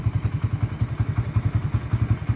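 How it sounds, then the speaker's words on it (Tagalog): A Raider 150 motorcycle engine runs at idle close by, a steady low, rhythmic thumping chug with even pulses and no talking. "ito po yung kay Kuya Vic na motor."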